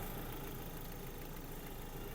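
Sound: car engine idling

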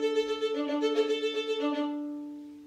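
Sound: violin playing Schumann Scherzo excerpt on open strings

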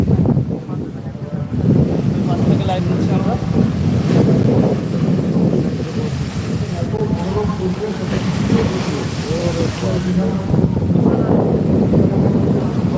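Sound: rough sea waves with strong wind

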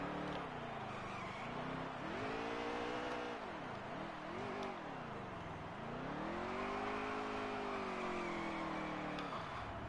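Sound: car doing a burnout in a racing video game

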